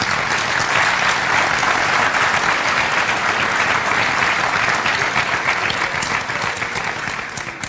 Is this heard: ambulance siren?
no